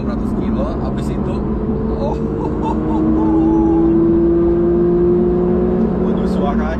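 A Porsche 911 GT3 engine drones steadily and rises in pitch as it revs up, loud and close, with road noise underneath.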